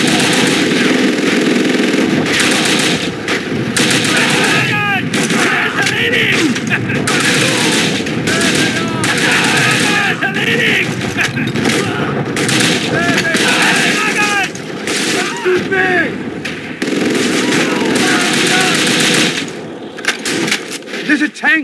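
Machine gun and rifle fire rattle almost nonstop in a Call of Duty: Roads to Victory battle, loud and close, with dense overlapping bursts and booms. Shouted voices are mixed in beneath the shooting.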